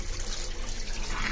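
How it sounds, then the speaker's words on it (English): Water pumped out of a large 500-gallon aquarium runs in a steady, close trickling stream with no voices over it. "Water comes out just like that"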